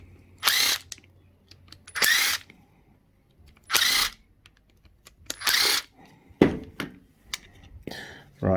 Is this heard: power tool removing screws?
yes